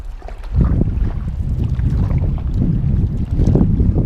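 Strong wind on the open sea roars and buffets the microphone from a boat, a heavy rumbling gust that barely lets up.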